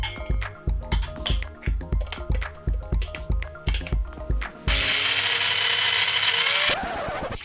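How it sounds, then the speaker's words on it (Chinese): A blender grinds pandan leaves, onion, lemongrass and garlic for curry paste, first in a series of rhythmic clunking pulses, then a steady loud whirring run that drops off and winds down at the end, with no talk. "我们把斑斓叶、洋葱、香茅、大蒜倒进去搅。"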